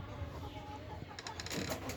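Hens and a rooster on a small home poultry farm, some black and some red laying hens, give soft scattered clucks against a steady low background hum with no talking.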